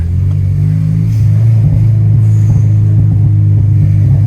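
A 250bhp EP3 Honda Civic Type R pulls hard with a loud, steady engine drone and rumble heard from inside the car, holding a constant pitch throughout without any voices.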